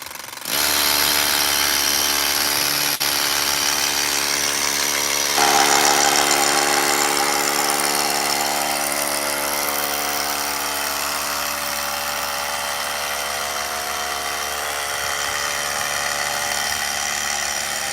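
Power drill boring into a concrete pool deck for a safety cover installation, a loud continuous whining drone that starts abruptly and holds steady for the whole stretch with slight shifts in pitch.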